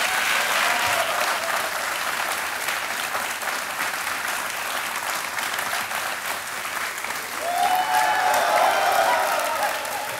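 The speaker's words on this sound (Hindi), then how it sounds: "जिसके लिए भी ताली बजती रहनी चाहिए" Sustained studio audience applause on the Indian quiz show Kaun Banega Crorepati, steady and full throughout, swelling louder near the end with a faint tonal cue.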